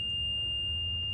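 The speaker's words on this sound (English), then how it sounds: "I hear a buzzer and I see a red light" A steady electronic warning buzzer on a school bus during a pre-trip inspection, one continuous high tone held unbroken and fairly loud over a low cabin hum, with no one talking.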